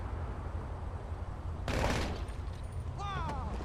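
Gunfire in Grand Theft Auto Online: a single loud shot bursts out over a low engine-like rumble, followed by a brief rising whine.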